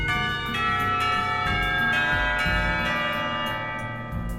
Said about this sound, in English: The ringing of the bell ends our conversation.